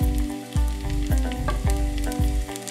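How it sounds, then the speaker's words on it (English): A tablespoon of minced garlic browns in a hot pan, giving a steady close sizzle with a soft hum underneath and regular scraping stirs about every half second. "I have a tablespoon of minced garlic. We're going to brown that up."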